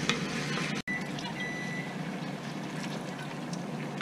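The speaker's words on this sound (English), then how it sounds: "Just a little bit of browning. I don't want to totally cook them this way. Just brown the skin a little." Chicken skin browning in a pan, a steady broadband sizzle and crackle running throughout at moderate level, with a brief dropout near the start.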